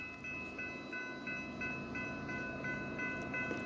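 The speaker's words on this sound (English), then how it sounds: "You can hear them rails singing." A BNSF double-stack freight train rolls past outside Prairie du Chien, Wisconsin, its rails giving a steady rumbling roar with high ringing tones pulsing at regular intervals, heard from a moderate distance without talking.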